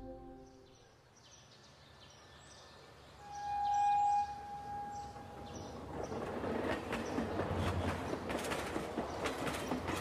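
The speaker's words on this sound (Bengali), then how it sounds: "চারটে 45-এর প্যাসেঞ্জার ট্রেনটিকে রওনা করে দিয়ে নদের চাঁদ নতুন সহকারীকে ডেকে বলল" A passenger train departs as a sound effect in a Bengali short-story reading. Tonal horn-like notes sound first, then a swelling rumble and rhythmic wheel clatter grow steadily louder, with no voices.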